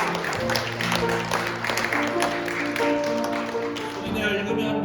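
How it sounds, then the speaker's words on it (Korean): A church congregation gives a burst of applause during a service, scattered clapping that stays moderate and steady while sustained tones, likely an organ or keyboard, play underneath. "우리 박수로 격려하겠습니다."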